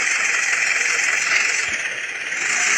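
A steady, bright simulated motorbike engine drone from a 3D bike video game holds a constant whine throughout, loud and unbroken.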